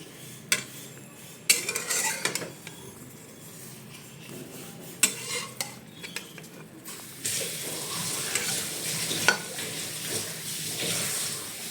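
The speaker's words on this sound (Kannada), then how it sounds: "ಸೊ ಇದನ್ನು ಇವಾಗ ಫ್ರೈ ಮಾಡಬೇಕು." Chopped okra fries and sizzles in oily fat in a pan for sambar, with a utensil stirring and scraping against the metal in intermittent clinks over a steady hiss that grows denser and louder toward the end.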